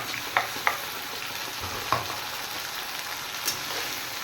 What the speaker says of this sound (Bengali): এবার মশলাটা ভালো করে একটু ভেজে নেব